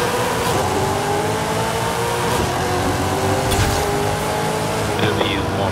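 An Impala Super Sport with a 1,000-horsepower drag tune accelerates in Forza Horizon 5, its loud engine droning steadily through smooth gear changes, with a voice talking over it.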